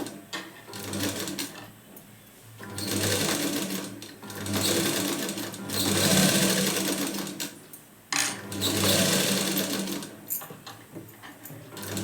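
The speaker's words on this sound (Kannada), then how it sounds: "ಇವಾಗ ನಾನು ಇನ್ನೊಂದು ಸ್ಟಿಚ್ಚನ್ನ ಹಾಕ್ತೀನಿ, ಆವಾಗಲೇ ಕರೆಕ್ಟಾಗಿ ಬರೋದು." A sewing machine stitches a blouse in three loud, steady runs of rapid mechanical whirring, each lasting a couple of seconds, separated by short pauses, close by with no talking.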